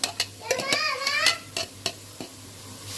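Onion frying in a pan in a home kitchen, a soft sizzle under repeated sharp clicks and scrapes of a utensil stirring, with a brief high voice in the background.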